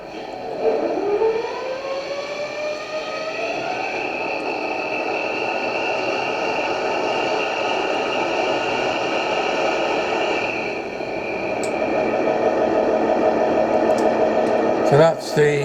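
A model railway locomotive sound decoder plays engine idling through an EM2 speaker: a steady, moderately loud diesel-like drone with tonal hum after a short start-up rise, and a brief clatter near the end.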